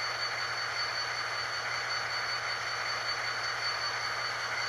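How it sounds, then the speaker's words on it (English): EMD prime mover on an Atlas N scale Southern SD35 model locomotive, a steady, unbroken engine drone with a low hum that holds level throughout, with no voices. "the prime movers on EMD, I just love the way they sound"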